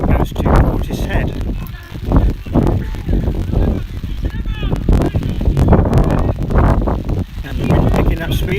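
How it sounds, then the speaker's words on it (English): Wind buffets the microphone at an outdoor football match between Portishead Town FC and Warminster Town FC, a steady low roar and rumble beneath continuous commentary. "And the wind picking up speed a little bit now as well, so I apologise if it sounds a little bit windy."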